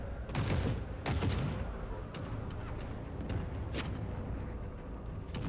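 Gunfire in The Forever Winter, with bursts of sharp shots and volleys near the start and scattered cracks later, over a constant low rumble.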